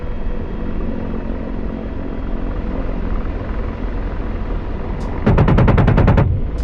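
An AH-64D Apache helicopter in DCS sits under a steady rotor and engine drone, then its 30mm chain gun fires a rapid burst of about a dozen sharp, evenly spaced shots near the end, loud and close.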